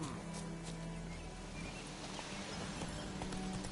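The horse Roach gallops in The Witcher 3, its hooves pounding in a quick, steady clip-clop rhythm, faint and close, alongside a low game soundscape.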